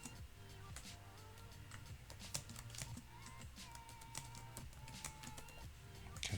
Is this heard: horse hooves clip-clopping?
no